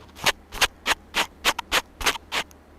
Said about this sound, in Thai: นี่เกาไม้ดู